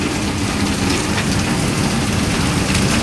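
Heavy rain from Typhoon Enteng pours down in a dense, continuous hiss and patter, steady and enveloping with no voices.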